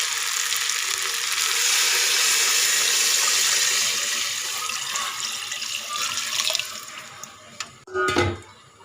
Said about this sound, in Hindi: तो हमने ये पानी इसी पैन में लिया था तो ये पानी इसी में ऐड कर देते हैं।